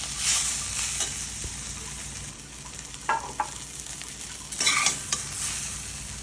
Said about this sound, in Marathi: हे कांदा खोबरं छान मी कढईमध्ये परतलेलं आहे, छान लाल झालेलं.